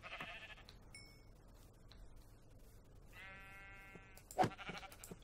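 Sheep in the Minecraft video game bleat in short harmonic cries, a few clear game sounds at moderate volume against a quiet background.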